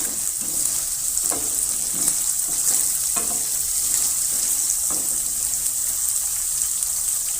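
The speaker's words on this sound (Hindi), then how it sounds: "प्याज लाल हो गई, अब इसमें हम लहसुन अदरक डाल देंगे, इसको थोड़ा सा फ्राई करेंगे" Onions, garlic and ginger fry in a pan for a mutton paya curry, giving a steady close hiss of sizzling oil with a few soft scrapes of a stirring spoon and no talk.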